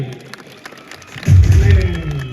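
A crowd at a devotional song event for Sant Shiromani Dev Mamledar Shri Yashwantrao Maharaj in Satana breaks into loud, sustained applause about halfway through, following quieter murmuring.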